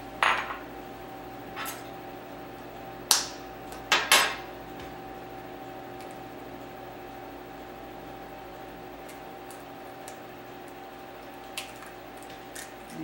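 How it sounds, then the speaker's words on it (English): Sharp clicks and light cracks of an egg being struck with a knife and the shell pulled apart in a home kitchen while making fudge brownies, a few distinct taps over a steady appliance hum. "Crack it with a knife, put your thumbs in, and then you can separate the eggshells."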